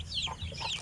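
A hen on a farm clucks softly in a few short, close calls over a low background hum.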